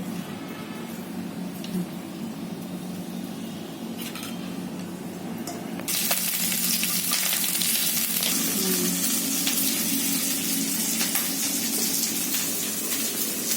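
Green chillies and cumin seeds frying in a pan for a spicy chilli dish, starting as a quiet hiss before a sudden louder, brighter sizzle takes over and continues steadily with faint clinks.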